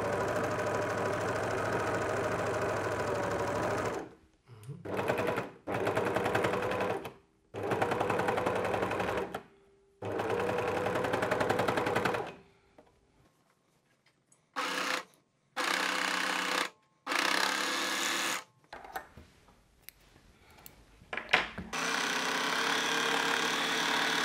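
A sewing machine stitches a neckline binding on children's clothing, running in loud, steady bursts with short pauses between seams, close up and with no talk.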